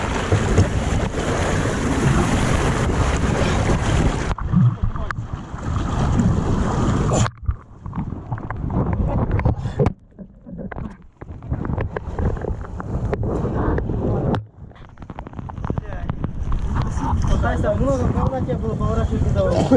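Boat engines run hard at full throttle, a loud continuous roar mixed with strong wind buffeting, dropping briefly in places, with someone talking over it.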